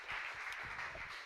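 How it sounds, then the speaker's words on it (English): Audience applause at a sports and education conference in Rome, greeting the speaker Paolo Menescardi: a steady wash of many hands clapping, moderately loud, lasting about a second with no talk. "Applause to Paolo Menescardi."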